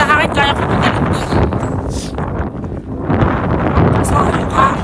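Gusty wind at Smoky Lake, Alberta, Canada pounds the mic with a close, loud low rumble throughout, easing briefly in the middle before building again, with a voice under it.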